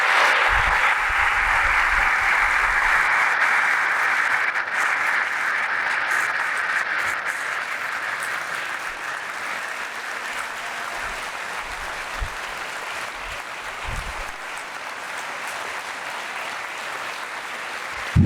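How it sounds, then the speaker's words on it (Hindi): A Palm Sunday church congregation applauds loudly and steadily, a dense, sustained clapping that fills the room and holds its level from start to finish. "उसकी तारीफ करो जोरदार तालियों से"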